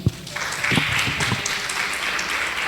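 Church congregation claps for Jesus during a Pentecostal-style radio preaching program, a sharp clap opening into steady, moderately loud applause with a faint voice underneath.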